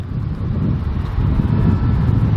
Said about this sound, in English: there's a lot of car noise